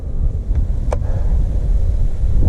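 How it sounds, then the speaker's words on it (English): Wind buffets the microphone out on the water from a kayak while fishing for snakehead, a loud, steady low rumble with brief faint knocks. "it'd also be really nice if the wind stopped blowing"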